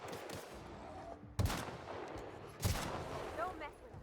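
Gunfire in the video game The Outer Worlds, two sharp loud shots or short bursts spaced over a few seconds, with faint voices and game sounds between them.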